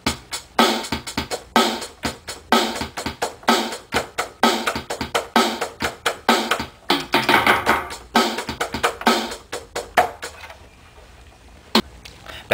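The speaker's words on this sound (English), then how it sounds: "it's a keyboard with drums on it" Electronic drum sounds tapped out in a quick, uneven rhythm of punchy hits, fairly close and loud, ending with a few sparse beats.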